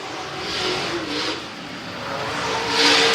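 Race cars roar around a short oval track at a Southern Swing finale in Richmond, Kentucky, engines droning steadily and swelling loud as the pack passes close, with no talk.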